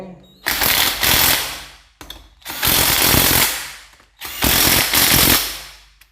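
A ratchet loosening 12 mm bolts on a motorcycle engine's cylinder head, with three loud bursts of rapid clicking separated by short pauses, close and distinct.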